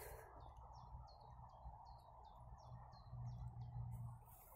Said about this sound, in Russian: И птички поют.